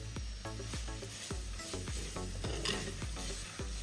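Chopped onion frying in a pan with chilli and turmeric powder for a Kerala-style okra curry, a steady close sizzle broken by repeated scraping stirs of a spoon against the pan.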